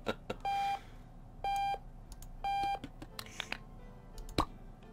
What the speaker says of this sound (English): Who set this alarm?